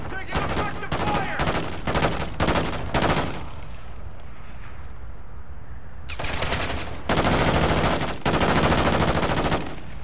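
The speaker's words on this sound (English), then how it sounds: "Taking effective fire!" Call of Duty gunfire comes in rapid automatic bursts, loud and close, broken by a few seconds of lull before heavy firing resumes.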